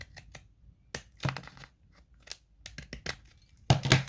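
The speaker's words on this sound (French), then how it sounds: "je vais venir couper le bout" Scissors snip the end off a small transparent plastic pouch, a few separate crisp cuts and crinkles spaced out, close and fairly quiet with a louder snip near the end.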